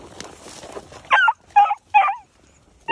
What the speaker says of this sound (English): Y'all heard these dogs.